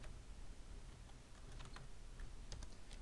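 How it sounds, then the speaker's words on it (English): Typing on a computer keyboard while entering a distance value in a drafting program: a quiet run of scattered, irregular key clicks, close and alone with no voices. "I'm going to type distance."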